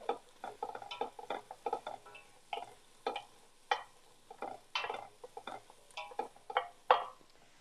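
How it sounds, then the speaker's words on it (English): Mushrooms sautéing in a pan as a spoon or spatula stirs them, a quick irregular series of close scraping and tapping strokes over a light sizzle. "here we're going to put in these mushrooms first. We'll stir that around."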